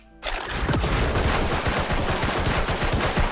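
A rapid barrage of gunfire from the gunslinger's Shift F skill in a video game erupts after a brief quiet moment, with dense repeated shots and booms continuing loud and close.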